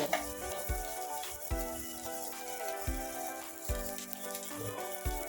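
Capsicum, chili and chopped ginger frying in a pan on a high gas flame, a steady sizzle broken by several regular scraping stirs, close and moderately loud with no talking.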